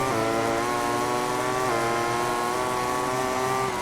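A red Ducati racing motorcycle engine in the MotoGP 18 game drones loud and steady at high revs, its pitch shifting slightly as the bike accelerates with no pauses.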